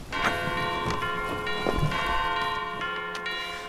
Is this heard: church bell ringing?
yes